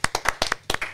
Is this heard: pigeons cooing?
no